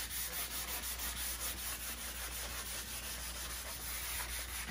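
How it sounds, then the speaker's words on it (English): Steady, rhythmic rasping of sandpaper rubbing back and forth over a blond pickled oak piano cabinet, close and continuous. "I'm gonna sand it now."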